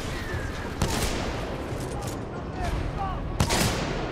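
Gunfire from a Titanfall 2 battle, with two sharp bursts standing out over a dense, continuous din of combat noise.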